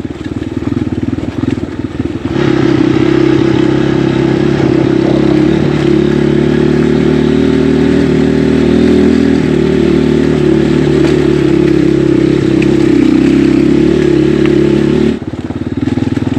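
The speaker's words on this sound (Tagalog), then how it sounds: "Motor kaya pa makatawid." A motorcycle rides a rough bypass road, its engine a loud, steady drone with rattling and clatter over the bumpy surface, quieter at the very start and end.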